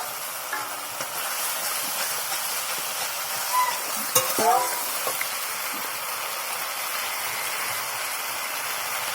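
A ground spice paste for fish curry is stir-fried in oil, a constant hissing sizzle with a short burst of scraping and stirring partway through.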